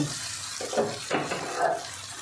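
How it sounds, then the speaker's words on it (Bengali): Hot water poured into a pan of potatoes fried down with spices until the oil separates, giving a close, steady hiss and sizzle with a few louder bubbling surges. "এবার আমি গরম জল দিয়ে দেব।"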